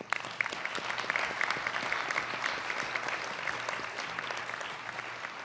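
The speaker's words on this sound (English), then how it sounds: "So one more round of applause." Audience applause fills a school board of education meeting room, a steady, dense round of clapping from many hands that holds evenly throughout with no talking over it.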